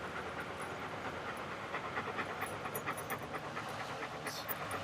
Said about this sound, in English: we called a canine deputy to come and do an open air sniff of the vehicle